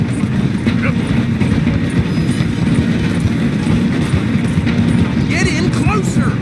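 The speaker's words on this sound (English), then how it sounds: "The train is slowing down to go through the station." In Red Dead Redemption 2, a train slows down through a station with a loud, steady rumble and rhythmic clatter of the wheels, with faint background sounds and no clear talking.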